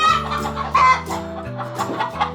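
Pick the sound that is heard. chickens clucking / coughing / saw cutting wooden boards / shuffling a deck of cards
chickens clucking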